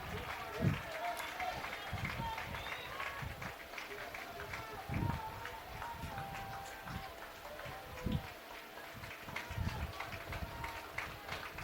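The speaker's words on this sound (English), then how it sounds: "Spartan fans applauding as they're down to 2 strikes with 2 outs." Scattered applause and crowd noise from a ballpark at an NCAA baseball super regional, Tampa vs. West Florida, with a few sharp thumps standing out and voices talking underneath.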